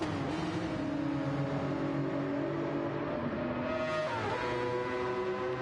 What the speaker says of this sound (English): you can just hear the screaming rotary there